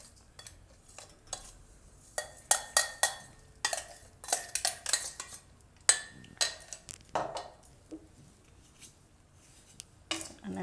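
Flour being stirred and roasted in ghee in a pan, with irregular scraping and clinking of a metal spoon against the pan, close and fairly quiet, under occasional talk.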